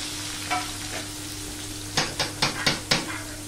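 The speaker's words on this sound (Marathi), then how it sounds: "कांदा मस्तपैकी परतून घेऊया" Onion sautéing in hot oil with asafoetida in a pan for dal fry: a low steady sizzle with a faint hum beneath, then a quick run of five sharp spatula scrapes near the end, close and without talk.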